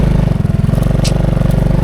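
Motorcycle engine idling steadily on a village ride, a close, even low throb with rapid regular pulsing throughout, alone without talk.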